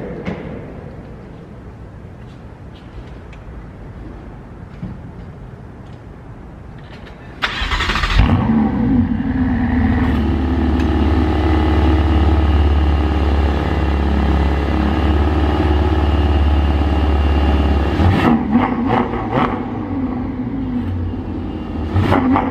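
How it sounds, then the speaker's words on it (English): A Ferrari 488 GTB is started, firing with a sharp burst and settling into a loud, deep, steady idle from the engine and exhaust close by for about ten seconds before cutting back to quieter surroundings. "can you turn it on so I can hear the engine or the exhaust?"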